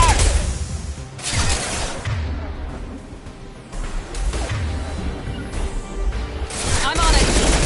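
Heavy gunfire in Mass Effect 2 comes in loud, dense bursts with booming impacts over about eight seconds, rising and falling, with voices talking over the shooting.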